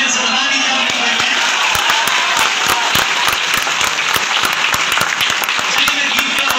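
Audience applause at a Phagotsav poetry gathering with a Hindi poet on stage: dense, sustained clapping from a large crowd, steady and loud throughout with sharp individual claps standing out.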